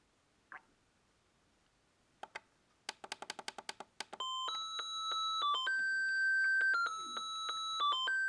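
A Sony Dream Machine ICF-C414 clock radio sounds its melody alarm: a few button clicks and a quick run of taps, then a loud, bright electronic tune of sustained beeping notes that plays on alone.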